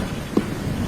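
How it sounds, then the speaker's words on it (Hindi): Heavy rain falls in a jungle at night in a cartoon, a steady broadband hiss of downpour with a brief low thump near the middle, no voices. "अचानक से जंगल में तेज बारिश शुरू हो जाती है।"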